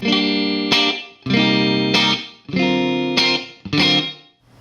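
Electric guitar through a Boss RV-5 digital reverb pedal with the decay set low, four loud, distorted chord strums spaced evenly, each ringing briefly with a short reverb tail before the next.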